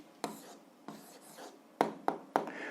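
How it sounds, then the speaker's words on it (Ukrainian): A pen writes an algebra answer on paper at close range, with a handful of short scratchy strokes and light taps in quick succession against a quiet background. "Записуємо відповідь. Пишемо відповідь."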